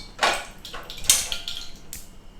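Clinks and scrapes of a metal utensil against a pan as spices temper in ghee, a few sharp knocks with a faint sizzling hiss underneath, no voices.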